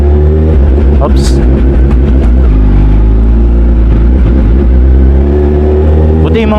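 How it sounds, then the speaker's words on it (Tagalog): A big bike motorcycle engine rumbles loud and close, with a steady low roar and occasional revs that carry through the whole stretch, and brief voices are audible over the noise. "Di naman kasi lahat gusto yung tunog ng big bike,"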